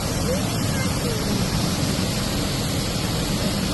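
Ingleton waterfall roars in a steady, dense rush of falling water that fills the whole clip at a constant loud level, with no pauses.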